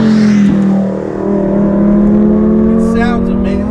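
A 700 WHP supercharged VF900 Lamborghini Huracan engine accelerating hard, loud and close, with a steady rising drone and supercharger whine throughout, nearly uninterrupted.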